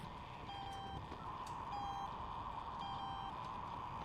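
A beeping machine in the video game The Suicide of Rachel Foster gives three evenly spaced, steady electronic beeps over a constant low mechanical hum, moderately faint and without talk.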